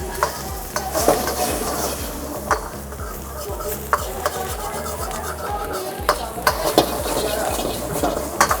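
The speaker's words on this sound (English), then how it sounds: "we're going to stir fry once again" Eggs stir-fried in a hot pan for pad thai, with rhythmic scraping and tossing strokes over a steady sizzle, close and fairly loud.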